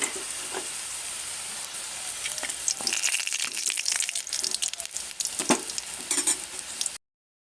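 Diced potatoes frying in hot oil in a kadai, a steady close sizzle with intermittent stirring scrapes and clinks, no talk.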